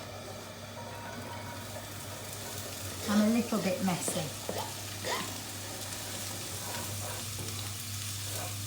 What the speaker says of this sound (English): So those are going in and they're going to sizzle